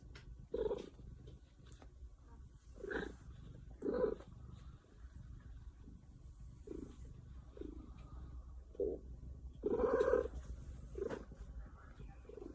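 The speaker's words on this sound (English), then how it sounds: "it's about time for me to go out and feed the outside cats" Outdoor cats meow in a run of separate calls, about one every second or two, over a soft continuous purr and low background rumble. The meows are moderately close and clear, with no talking.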